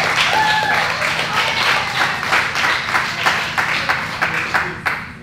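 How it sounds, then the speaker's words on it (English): Applause from a small group for the players at an in-house team sporting event, sustained and fairly loud throughout, with dense scattered claps that taper slightly near the end. "Big clap for these guys."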